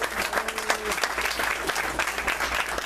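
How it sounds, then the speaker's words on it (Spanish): At a national conservatory, an audience claps for three performers, with close, busy applause running throughout and brief voices and a few tonal traces mixed in beneath. "un aplauso para los tres ahí"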